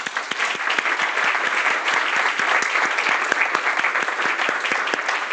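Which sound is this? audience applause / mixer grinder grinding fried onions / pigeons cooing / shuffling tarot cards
audience applause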